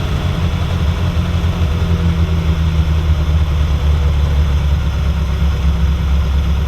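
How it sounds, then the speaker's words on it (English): A Ferrari 308 engine idles steadily with a deep, even rumble during carburetor adjustment, close and loud, with no talking over it. "These back two carburetors are working harder than the front two."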